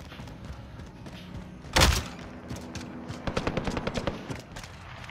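Gunfire in the Warzone battle royale game: a single loud, close blast, followed after a pause by a rapid run of sharp shots, with low background game noise throughout.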